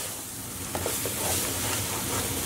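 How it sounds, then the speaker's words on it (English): Eggplants and grated garlic stirred and fried in a pan, giving a dense close sizzle with a few soft scraping stirs near the middle and no talking. "So what I'm going to do is add in all of our eggplants. I'm also going to add in 4 grated garlic cloves."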